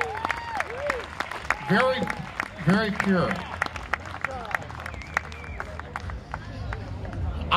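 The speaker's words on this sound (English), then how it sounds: "Give her a big round of applause." A live audience claps for a singer at a performance, a dense bed of applause with people cheering and talking over it throughout.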